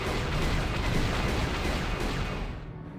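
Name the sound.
turret gunfire in Knights of the Old Republic minigame, video game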